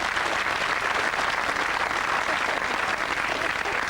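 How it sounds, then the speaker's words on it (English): A studio audience on a 1989 UK TV game show applauds in a dense, steady wash of clapping that holds at full loudness throughout, with no voices over it. "give him a round of applause, ladies and gentlemen"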